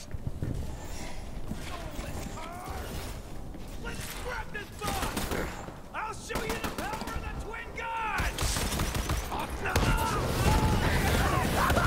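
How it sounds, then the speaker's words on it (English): Assault rifle gunfire in the co-op shooter Borderlands 3, with rapid bursts of shots running through the whole stretch beneath chatty game sounds and mechanical clatter. "God, this assault rifle is really shitty."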